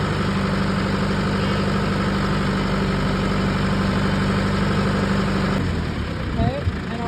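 A tractor engine idles with a steady, loud low rumble and mechanical vibration throughout, shifting slightly near the end as the load changes.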